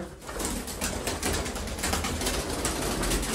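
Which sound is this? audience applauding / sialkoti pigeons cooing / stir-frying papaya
sialkoti pigeons cooing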